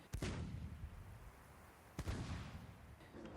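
Artillery guns banging away at the front north of the Han River during the Korean War with a Commonwealth brigade, two heavy booming blasts about two seconds apart over a rumbling, noisy background.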